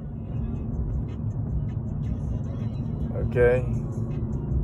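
A car winds along a lakeside road at Clear Lake, its low, steady engine and road drone continuing under a brief spoken word.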